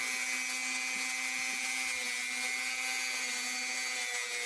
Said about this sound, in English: whenever you're buffing these like this with like a Dremel